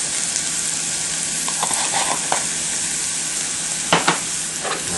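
Onions, garlic and spice sizzle steadily in a frying pan as a utensil stirs them, with a constant hiss and occasional scraping strokes, close and unbroken.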